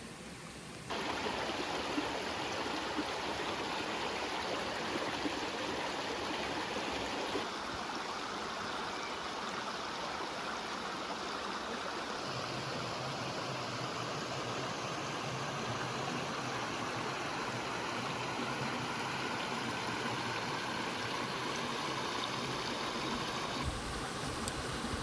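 A creek runs steadily beside a hiking trail at Hawn State Park, its broad, continuous rush of water holding close and fairly loud throughout, with no voices over it.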